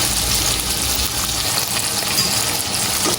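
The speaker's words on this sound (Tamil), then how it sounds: "தக்காளி பழம் நல்லா வதங்கி கொண்டு வந்துட்டார்" Tomatoes sautéing in hot oil for a crab curry, giving a loud, dense, continuous sizzle and frying hiss that holds steady throughout, with faint stirring.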